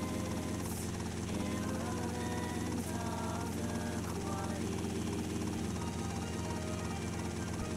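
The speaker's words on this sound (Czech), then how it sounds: "se tady přiletím helikoptérou a přistanu na helipadu" Helicopter rotor and engine drone steadily throughout a flight in GTA Vice City Stories, loud and continuous with a constant buzz under game sounds and some talk.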